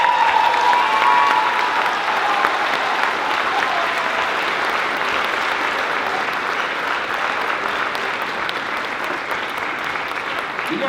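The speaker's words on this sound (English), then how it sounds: "let's give a big round of applause to Noah Couser." A large audience applauds after a suicide prevention talk in Montana, giving a sustained, even roar of clapping that holds steady, close and loud, for the whole stretch.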